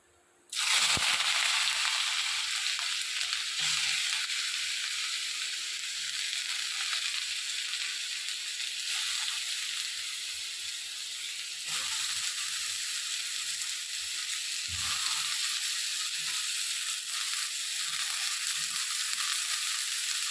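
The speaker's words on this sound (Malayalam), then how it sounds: "ഇതിനകത്തേക്ക് നമുക്ക് അരിഞ്ഞ് വെച്ചേക്കണേ ഈ ചതച്ച് വെച്ച വെളുത്തുള്ളിയും ഇഞ്ചിയും പച്ചമുളകും ചെറിയുള്ളിയും കറിവേപ്പിലയും കൂടി ഇതിനകത്തേക്ക് ഇട്ട് കൊടുക്കുക." Crushed garlic, ginger, green chilli, shallots and curry leaves drop into hot coconut oil and erupt into a loud, close sizzle that hisses continuously, with occasional stirring scrapes in the pan.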